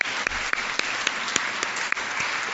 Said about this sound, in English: So how about a round of applause for your future mentors?